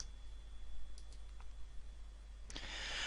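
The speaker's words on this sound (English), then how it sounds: "Type a name for this signature." A few soft, sparse clicks from a computer keyboard as a signature name is typed, faint and close against a low steady hum, no talk.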